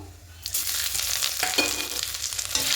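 Bay leaves frying in hot oil alongside cinnamon and chillies, a loud bright sizzle that bursts up after a quiet start and keeps crackling steadily at close range.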